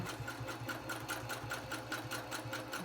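A domestic sewing machine runs at a slow steady pace basting long stitches, an even mechanical whir with a regular ticking pulse, close and continuous.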